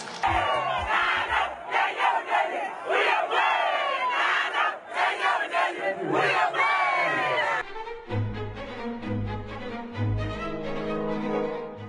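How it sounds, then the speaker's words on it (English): Large audience at a Ghanaian presidential address cheering and roaring in a loud, sustained wave for the President, with a band or music swelling in underneath near the end. "A big round of applause for His Excellency the President."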